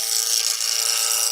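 A power tool makes a gentle cut into very old olive wood, giving a steady, even, hissing grind with no pauses and no talking.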